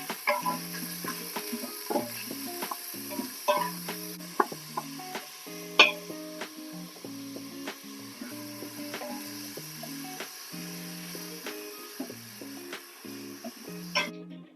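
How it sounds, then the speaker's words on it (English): Ground beef sizzles steadily in an Instant Pot on the sauté function, with frequent clicks and scrapes of a utensil stirring, no voices. "You can hear that sizzle."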